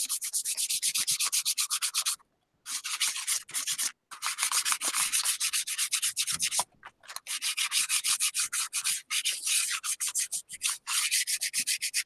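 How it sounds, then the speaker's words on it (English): Rapid back-and-forth scratchy rubbing over a textured leaf plate, close and fairly loud, in steady strokes broken by a few short pauses, with no talking. "But you just like take it and do a rubbing over it like this."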